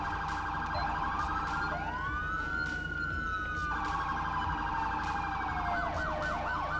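A modded police car siren in GTA 5 with ELS wails loud and continuous, sweeping up and down between steady tones, with no talking over it.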